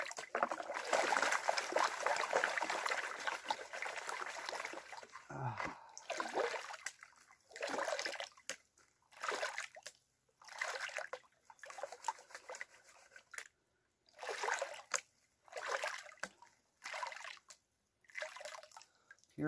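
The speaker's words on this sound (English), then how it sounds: "Gotta love these Garrett Super Sleece gold pans." A Garrett gold pan is swirled and dipped in creek water while panning black sand, with repeated sloshing and dripping splashes in uneven bursts separated by short pauses, close and moderately loud.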